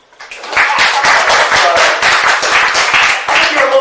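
An audience at a stand-up comedy show breaks into applause, building quickly into dense, steady clapping that fills the room for a few seconds with a brief dip near the end.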